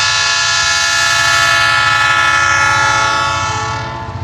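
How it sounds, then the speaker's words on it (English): A diesel locomotive hauls a heavy freight train up a steep grade, its engine droning loud and steady with strong harmonic tones that hold throughout, then ease off slightly near the end; no voices. "Got the locomotive running again."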